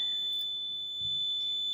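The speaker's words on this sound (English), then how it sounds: "When toggle switch 1 is on, you can hear the buzzer sound." A PLC buzzer in a control systems lab, switched on by a toggle switch, emits a continuous steady high-pitched electronic tone, clear and constant, with faint background noise beneath.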